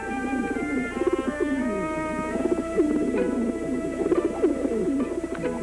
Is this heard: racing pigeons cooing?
yes